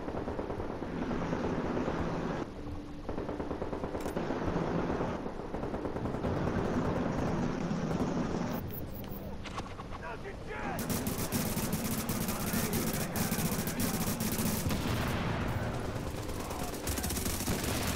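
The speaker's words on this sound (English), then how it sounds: "Somebody got a heavy machine gun over there." Heavy machine gun fire in the video game Tom Clancy's The Division, dense sustained bursts of loud automatic shots with brief breaks, building to a heavier barrage near the end.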